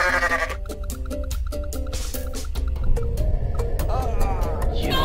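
A goat bleating in the video game Goat Simulator, with repeated short, nasal bleats over a plinking, rhythmic musical backdrop, ending in a longer wavering cry.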